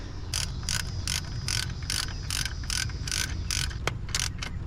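A ratchet tightens a bolt into a helicoil-repaired hole on a Honda K20 engine, a dozen quick bursts of sharp clicking in a regular back-and-forth rhythm, close and clear.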